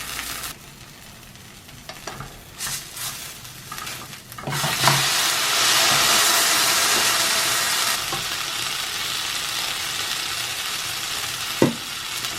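Tortilla frying in oil in a pan for vegan birria tacos, a loud steady sizzle that swells and holds, with a few stirring and scraping knocks at the start and a sharp clack near the end.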